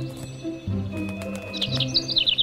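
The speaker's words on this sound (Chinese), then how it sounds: "我听到叽叽喳喳" Cartoon birds chirp in a children's animated show, with a quick run of bright high tweets near the end over a steady tonal musical background.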